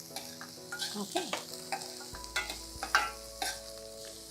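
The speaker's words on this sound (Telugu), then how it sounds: "స్ప్రింగ్ ఆనియన్స్ కూడా వేసేద్దాము. ఇవి కొంచెం వేపుకోవాలి అంతే మనం" Spring onions and garlic fry in a pan for veg Manchurian, a steady soft sizzle broken by repeated stirring scrapes and clinks, close and continuous for a few seconds.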